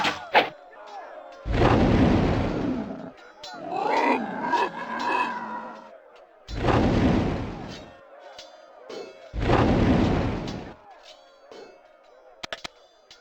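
Artillery pieces firing in the Warhammer: Shadow of the Horned Rat strategy game, three heavy booming blasts spaced a few seconds apart, with battle noise and grunting sounds between them.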